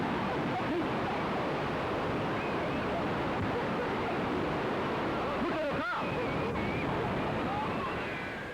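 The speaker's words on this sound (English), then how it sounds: "The powerful waves crashed the shore, wiped away the beach, and anything that stood in the way." Powerful tsunami waves crash onto a Southeast Asian beach and sweep across the shore in a continuous, loud, roaring wash of surf that holds steady for several seconds, with no talk over it.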